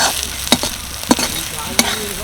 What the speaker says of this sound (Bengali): সমস্ত মশলাকে আমি প্রায় দু মিনিট মতো কষিয়ে নিয়েছি এতে করে দেখো চারিদিক থেকে তেল ছেড়ে দিচ্ছে